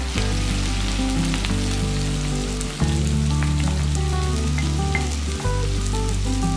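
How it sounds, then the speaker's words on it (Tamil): Small shallots sauté in hot oil for a fish kuzhambu, a loud, dense, continuous sizzle with steady crackling that runs throughout with no voices. "சாம்பார் வெங்காயம் நல்லா வதங்கணும்."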